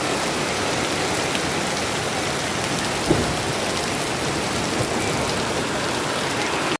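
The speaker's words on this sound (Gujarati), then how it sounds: "તો મિત્રો જોરદાર વરસાદ આવી ચુક્યો છે." Heavy rain pouring down at a temple market, a dense, steady hiss of downpour on surfaces with one brief louder knock midway, continuous and close.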